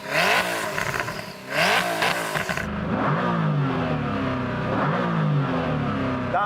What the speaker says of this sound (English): So I'm going to start off by revving up this Koenigsegg.